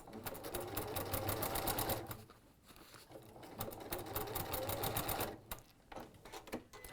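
A sewing machine stitches the seams of a fabric bag, a close rapid mechanical clatter in two bursts separated by a brief pause, with light handling noise between runs.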